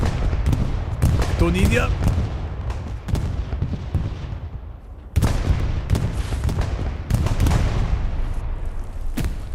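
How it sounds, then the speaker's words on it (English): Bombing-run explosions and artillery-like booms rumble across Hill 400 in the Hell Let Loose game, with heavy sustained blasts and sharp impacts, under someone talking. "Not too bad of a bombing run for Hill 400."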